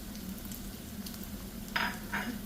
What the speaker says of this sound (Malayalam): നന്നായിട്ടൊന്ന് വഴറ്റി കൊടുക്കാം.